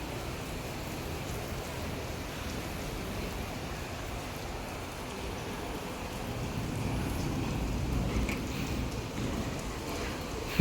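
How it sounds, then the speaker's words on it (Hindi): Steady rain pouring at a home during the monsoon, a dense continuous hiss of drops on surfaces that swells slightly louder toward the end, with no other sounds standing out. "देख सकते हैं अभी हमारे यहाँ मस्त वाली बारिश शुरू हो चुकी है"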